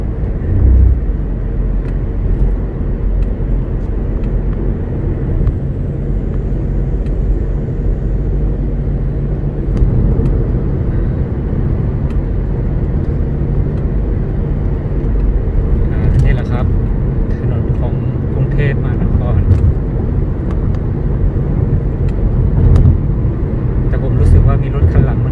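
Steady traffic rumble on a Bangkok street as a fast car drives past, with continuous engine and road noise throughout and no clear single pass-by peak.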